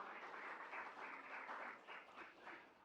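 A church congregation applauding during a Sunday service, a steady wash of clapping that stays fairly even throughout, distant and faint with no talking.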